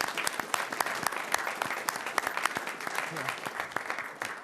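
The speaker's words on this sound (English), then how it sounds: "Round of applause for Joshua" Scattered, crisp applause from a modest crowd at a town board meeting, individual claps distinct and near, with voices talking faintly underneath as it gradually thins.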